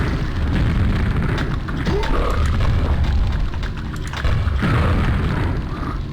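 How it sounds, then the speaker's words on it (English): Grenades explode in a video game as a continuous heavy rumble of booming blasts, loud and close, with a second surge near the end and a voice faintly mixed beneath. "Hooray for explosives!"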